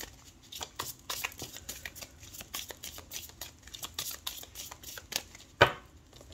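Deck of tarot cards shuffled by hand at close range, a quick run of crisp riffling flicks and taps, ending with a sharper slap as the deck is cut.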